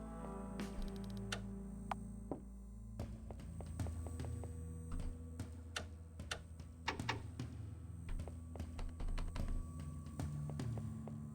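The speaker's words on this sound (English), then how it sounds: "Hear the faint clicking of a typewriter." Faint typewriter clicking in the video game Ms. Director, irregular clacks and ticks that come in small clusters over a quiet hum and grow busier toward the end.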